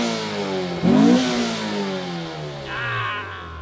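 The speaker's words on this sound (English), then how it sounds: "You want to have me rev my engine on your camera?" A car engine near the Salton Sea is revved up sharply once, close and loud, and then winds down through a falling drone as the revs settle back toward idle.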